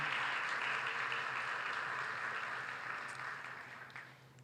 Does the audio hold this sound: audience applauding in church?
yes